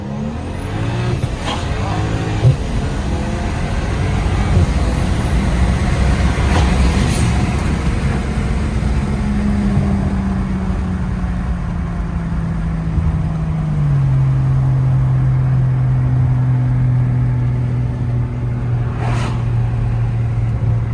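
A single-turbo BMW 335is pulls away hard on takeoff, the engine note climbing steadily and loud, close by, with a turbo whoosh building over road noise; no talking.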